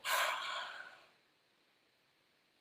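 A single deep, breathy draw of air lasts about a second, close and airy, then fades into silence with no talking.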